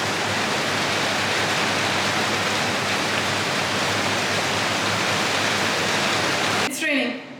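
Rain pours steadily outside in a dense, even hiss that holds unbroken for most of the stretch, then drops off abruptly in the final second.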